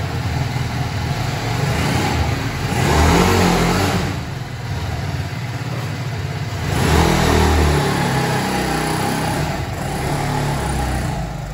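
Engine of a motorcycle heard while riding on a road in India, a steady mid-pitched drone with wind rush that swells twice, rising as the bike accelerates, with no talking.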